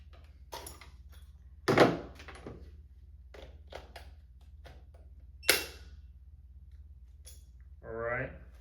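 Packaging being handled while a Chinese 12-ton lug crimper's box is opened: a few soft thunks and scuffs, with two sharper knocks standing out, and a short tonal sound near the end, all close and fairly quiet.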